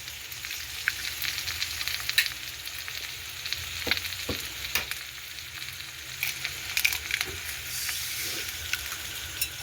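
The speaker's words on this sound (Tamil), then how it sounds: "முட்டையை விட்டு ஒருக்கா வடிவாக கிளறி விடுவோம்." Egg fries in hot oil and is stirred in a pan, making a steady hissing sizzle throughout with scattered spatula scrapes and light taps, near and even in level.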